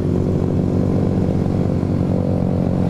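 A Vespa scooter engine runs steadily on a misty mountain road during a Sunday morning ride, a loud, constant buzzing drone with a firm low hum and no break, close by the whole time with no talk.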